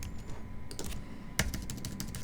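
A computer keyboard being used during a design session, giving a few sparse, crisp key clicks over a quiet background hum with one sharper press midway.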